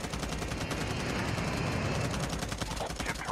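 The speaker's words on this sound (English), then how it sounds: "I shot a lot of bullets on this dude" Rapid automatic gunfire crackles in the battle royale mode of Call of Duty Mobile, a dense, steady stream of shots running throughout with a voice speaking over it.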